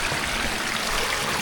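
Strong-flowing stream water at Candies Falls in Laguna, a steady broadband rush that stays constant and close throughout.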